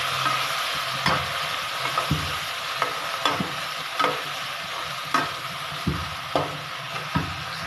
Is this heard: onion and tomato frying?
yes